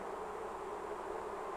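Honey bees buzz inside a hive, a dense, continuous droning hum from many insects at once, steady and moderately faint throughout.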